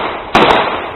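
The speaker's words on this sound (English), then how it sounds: "In a moment, you will hear gunshots." Recorded gunshots from a gang shooting: a sharp loud bang followed by a quick second crack, heard over a harsh, band-limited background rumble.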